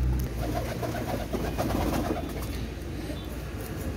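Pigeons, a pair of Barud pigeons kept by a breeder, give a low murmuring coo throughout, steady and close, with a faint background hum.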